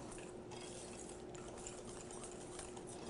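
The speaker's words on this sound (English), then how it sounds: "Give it a good whisk." Chocolate batter with vanilla being whisked in a bowl, a steady scraping and swishing texture that runs continuously with no talk over it.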